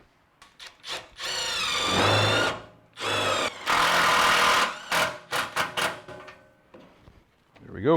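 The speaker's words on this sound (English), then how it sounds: "I'm gonna drive a self-tapper right down in here just to hold this still." A power driver sinks a self-tapping screw into a Firebird's car fender in two long, loud whirring bursts and several short stuttering pulses, close by. Someone speaks briefly at the end.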